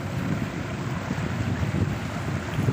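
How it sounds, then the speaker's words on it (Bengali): A strong wind blows over a rough sea in the Sundarbans, recorded from a moving launch. It makes a continuous close rushing roar with low buffeting rumble throughout. "সমুদ্র কত উত্তাল বাতাস বইছে উত্তর দিক থেকে"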